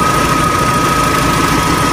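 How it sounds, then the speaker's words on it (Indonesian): A 1987 Toyota Starlet EP71 with a 1.3-litre carbureted inline four-cylinder engine idles steadily and smoothly, a constant close-up drone that holds even throughout, with no talking. "Dan mesinnya stabil, halus."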